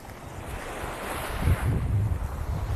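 Sea waves break and wash on Bang Saen beach in Thailand, a steady rushing surf with wind rumble on the microphone, fairly close and swelling slightly midway.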